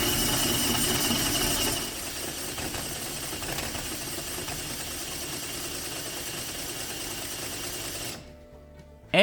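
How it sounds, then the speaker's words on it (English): A drill manually spins the diesel injector pump on a 1984 Volkswagen Jetta diesel, a steady mechanical whirring and chattering drone close by. It runs loud for about two seconds, then continues slightly softer before cutting off near the end. "I'm going to manually spin the injector pump over with this drill"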